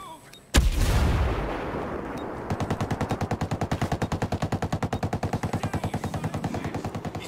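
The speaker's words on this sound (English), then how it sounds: "Gonna toss a grenade." A grenade explosion booms loudly in Ghost Recon Breakpoint, followed by a long, steady burst of rapid automatic gunfire with evenly spaced shots that continues to the end.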